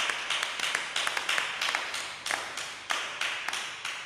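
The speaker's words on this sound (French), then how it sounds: "Acclamons le Seigneur" A church congregation claps in a steady, even rhythm, about three sharp claps per second, bright and close, with no singing or talking over it.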